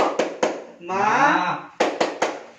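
A group of women in a training session does a rhythmic spirit clap: sharp, loud claps in quick sets, broken by a brief chanted shout in the middle.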